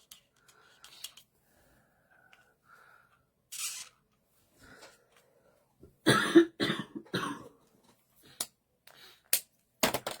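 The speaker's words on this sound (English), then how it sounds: "And excuse me for the coughing, I can't help it." Coughing from someone with a cold, a burst of several harsh, close coughs in quick succession followed by a few isolated single coughs, set against an otherwise quiet indoor room during a card-making session.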